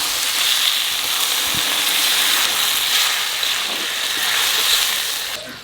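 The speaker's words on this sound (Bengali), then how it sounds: "এখানে জল দিয়ে দেবো।" Water is poured into a pan of catfish (magur) frying with spices, giving a steady loud hiss and sizzle with a watery spatter throughout, close by and alone.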